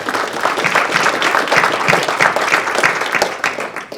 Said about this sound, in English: That's right, you better applaud.